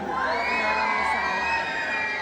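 A pageant audience at a national costume show cheers and shouts together in a loud sustained roar, with whoops rising over the continuous crowd noise.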